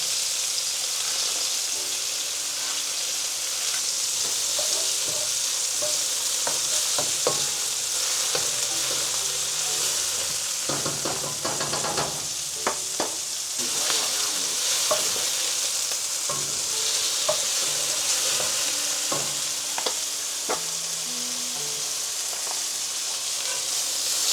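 Steak searing in a hot pan, a continuous dense sizzle with intermittent scrapes and taps of a utensil, steady and close with no one speaking.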